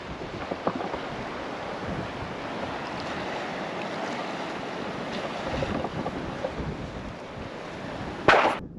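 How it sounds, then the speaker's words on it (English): Wind gusting outdoors near the water, a loud, continuous rumble of buffeting noise across the microphone, with a sharper burst near the end. "It's a little windy"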